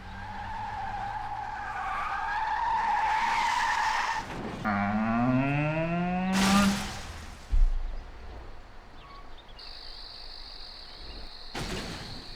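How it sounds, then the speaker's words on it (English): A car brakes hard and skids in the video game Mafia: a loud, rising and falling tire squeal lasts a couple of seconds, followed by a thump and quieter game effects. "Hit the brake!"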